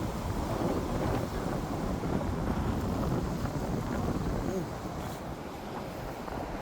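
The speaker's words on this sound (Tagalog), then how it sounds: "Mahangin lang." Steady wind rushes past the microphone beside a river in Canada, a continuous low, gusty roar that buffets the mic throughout and eases slightly near the end.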